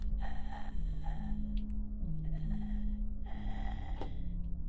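Heavy, rhythmic breathing from a horror video game set on 9 Childs Street, with several drawn-out breaths at a steady pace over a low droning ambience.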